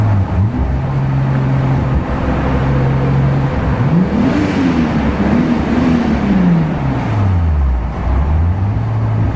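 A Toyota Supra engine holds a steady drone, then revs up and down in repeated rising and falling sweeps under turbo boost, loud and close from inside the car.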